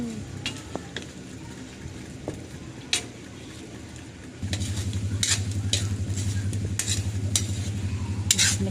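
Halabos shrimp cooking in a pan, a quieter sizzle with scattered stirring clinks that jumps to a louder, fuller frying hiss midway, with no voices.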